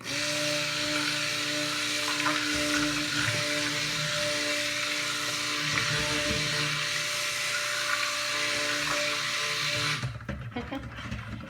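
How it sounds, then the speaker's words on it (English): A steady high-pitched motor whine from a handheld immersion blender mixing soap runs for about ten seconds, then cuts off, leaving quieter room sounds. "Now I'm gonna stick blend."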